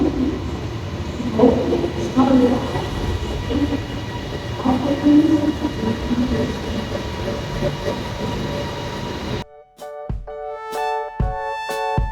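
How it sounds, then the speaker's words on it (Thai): An Airport Rail Link train at Makkasan station in Bangkok rumbles on the platform under a man's speech, then the noise cuts out and a loud electronic chime tone plays near the end. "อันนี้ก็จะเป็นบรรยากาศบน สถานีมักกะสันนะครับแอร์พอร์ตลิงนะครับ"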